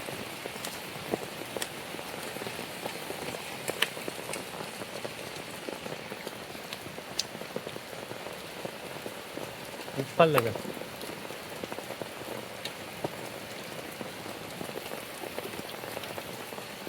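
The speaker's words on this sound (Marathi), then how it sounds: "इकडे पाऊस पण आज खूप चालू आहे" Heavy monsoon rain pours down steadily outdoors where corn is being roasted under an umbrella, a dense even patter throughout, with brief speech and a short scrape partway through.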